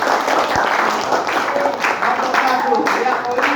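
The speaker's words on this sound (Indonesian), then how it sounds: "Beri tepuk tangan untuk kelompok" A classroom of students applauds a student group, loud, dense clapping from many hands sustained throughout, with voices faintly mixed in.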